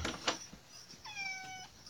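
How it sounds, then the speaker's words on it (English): A house cat gives a single clear, drawn-out meow at moderate distance indoors, preceded by a couple of faint knocking sounds, with no talking. "Dinah, that's her meowing."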